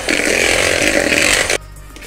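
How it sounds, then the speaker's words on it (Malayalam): An electric mixer creams butter and brown sugar for chocolate chip cookies, a loud, close, buzzing whir that runs steadily for about a second and a half, then cuts off abruptly. "നമുക്കിത് ബ്ലെൻഡ് വെച്ചിട്ട് നല്ലോണം ക്രീമാക്കണം"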